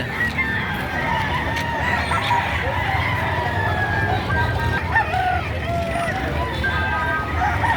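Roosters crow again and again over hens clucking and a steady crowd babble at a busy poultry market in Padre Garcia, Batangas, where Roundhead gamefowl are sold. The crowing rises and falls continuously with no break.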